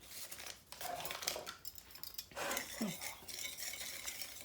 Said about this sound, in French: Je mélange délicatement.